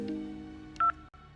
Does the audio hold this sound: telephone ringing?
yes